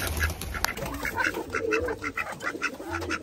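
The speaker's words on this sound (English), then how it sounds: "One of the ducks escaping." Repeated duck quacks and bird calls close by, scattered across a few seconds over a steady low outdoor rumble.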